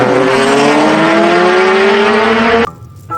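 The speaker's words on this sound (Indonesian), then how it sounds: "Wadidaw, ternyata motor balap." Racing motorbike sound effect from a toy, a loud continuous engine whine with a slowly rising pitch that stops abruptly near the end, leaving a brief faint tail.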